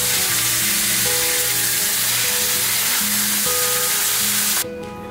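A thinly sliced whitetail deer heart fries in a hot pan, giving a loud, steady, close sizzle that runs continuously before dropping off abruptly at the end.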